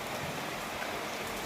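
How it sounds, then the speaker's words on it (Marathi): Heavy rain pouring down after a hot, sunny afternoon, a dense, steady hiss of drops on surfaces that holds at an even, fairly loud level throughout, with no voices. "तरी बघा कसा जोरदार पाऊस सुरू झालाय"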